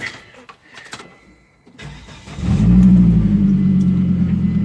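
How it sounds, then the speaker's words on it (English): A 1998 Volvo C70 that has sat a while, fed a little fuel, cranks briefly and then catches, settling into a loud, steady idle close by. "Just put a little fuel in it so we could start it and kind of let it run for a little bit."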